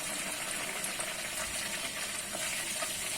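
Mixed vegetables such as zucchini and eggplant frying in a pan of hot oil, a dense, steady, close sizzle that hisses without pause.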